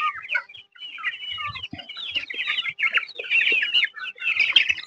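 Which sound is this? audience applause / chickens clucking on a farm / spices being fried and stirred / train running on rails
chickens clucking on a farm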